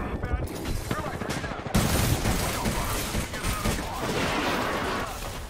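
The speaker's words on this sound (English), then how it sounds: "Getting shot at." Gunfire in the game Apex Legends: a dense, loud barrage of rapid shots and impacts, heavier after an abrupt onset partway through.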